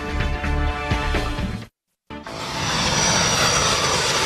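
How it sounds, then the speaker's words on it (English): Airplane engines roar loudly in two separate stretches with a sudden silent break between them, the second a dense, rushing jetliner-like sound, with no voices. "Airplanes."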